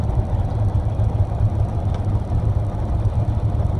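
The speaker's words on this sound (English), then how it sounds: "That's as fast as he wanted to drive the tractor towing this" A tractor engine towing a broken-down dump truck at about 15 miles an hour, heard as a steady low drone and rumble with constant road noise and no talking.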